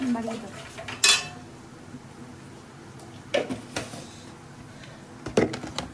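A utensil clanks and scrapes against a pan while vegetables are fried for homemade fried rice, with a few sharp metallic knocks spaced out over a soft steady background.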